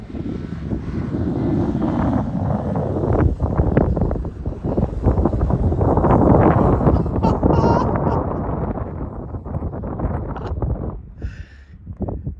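A dune buggy accelerates hard, climbing a sand dune on a diagonal, heard as a sustained loud engine roar mixed with heavy wind buffeting that eases slightly toward the end, with voices talking over it.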